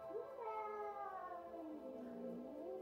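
A domestic cat cries while being brushed, one drawn-out wavering meow that rises and falls, close and clear with no talk.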